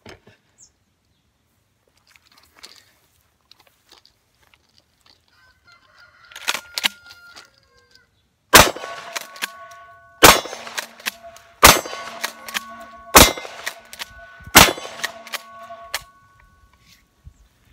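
A Mossberg 500 12 gauge pump shotgun with an 18.5-inch barrel fires at a metal target, five loud, sharp blasts spaced about a second and a half apart, each followed by a ringing metallic clang, with quiet handling noise before the shots.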